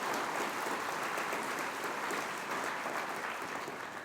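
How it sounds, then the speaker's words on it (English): An audience at a college graduation ceremony claps for a pipes and drums band, a dense, even round of applause sustained throughout and easing slightly at the end. "Let's give them another round of applause, please."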